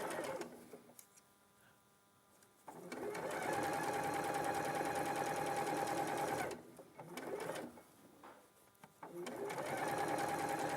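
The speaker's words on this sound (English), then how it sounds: "So now you're just sewing" A sewing machine stitches a cuff onto a sleeve, whirring steadily in two long runs separated by a short pause, with people talking alongside.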